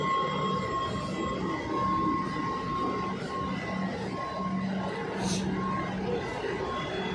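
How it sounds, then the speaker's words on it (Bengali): A Kolkata metro train pulls into an underground station, producing a continuous rumble with a steady high whine and faint squeals, heard from the platform at moderate level. "অলরেডি মেট্রো মনে হয় ঢুকছে"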